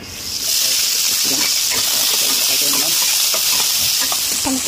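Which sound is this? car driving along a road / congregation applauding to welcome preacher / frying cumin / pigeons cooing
frying cumin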